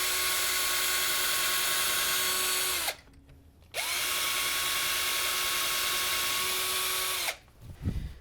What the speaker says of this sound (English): First, I'm going to drill a couple pilot holes.